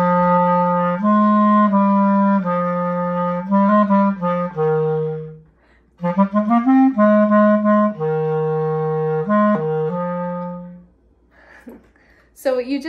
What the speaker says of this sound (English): Let's listen to the clarinet.